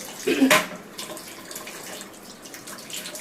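Water from a tap fitted with a connector gushes in a short loud burst, then settles into a softer, steady trickling flow nearby.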